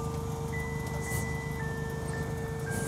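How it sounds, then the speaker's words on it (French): An ice cream truck plays its tinkling tune outdoors, a thin, sustained melody drifting at moderate distance over low street and traffic rumble, with no voices. "Ah, c'est le camion de glace."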